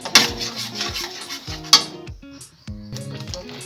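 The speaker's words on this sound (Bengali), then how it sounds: "হলুদ আর লবণটাকে ভালো করে মিশিয়ে নিলাম।" A spoon stirring salt and turmeric together in a bowl, with a few sharp metallic clinks and short scraping strokes close by, in quiet without any talk.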